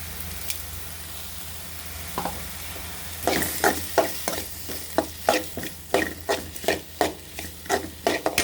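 Salted vegetable biryani ingredients being sautéed in a pan: a light sizzle, then a rhythmic run of scraping stirring strokes, roughly two each second, close and distinct.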